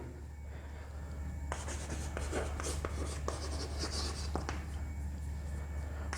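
Chalk or marker strokes scratch across a board during a chemistry class, a run of quick, close, fairly loud writing scrapes and taps starting partway in over a steady low room hum.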